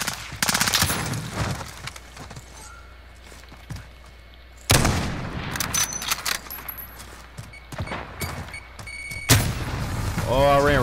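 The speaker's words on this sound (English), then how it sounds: "Oh, I ran right into that grenade." Explosions and gunfire in the online shooter Call of Duty Modern Warfare, with loud sudden blasts and bursts of shots breaking over quieter stretches of in-game ambience.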